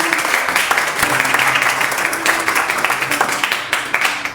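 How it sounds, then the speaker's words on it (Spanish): Congregation applauding in church during a sermon, a dense steady wash of clapping throughout with faint background voices and music underneath. "Denle un aplauso al Señor."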